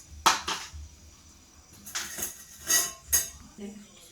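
A cooking pot is set down on a stove while preparing green chili curry, giving a few sharp metallic clanks and knocks, close and fairly loud, spread over about four seconds.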